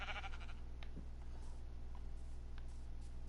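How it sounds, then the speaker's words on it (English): A sheep bleats a few times in Minecraft, short nasal calls over a steady low background hum. "I hear you, sheep."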